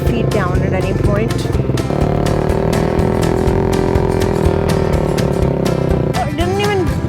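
A small motorcycle on a short test ride, its engine droning steadily close by with shifts in pitch as it moves along, wind and road noise around it and a voice occasionally over it.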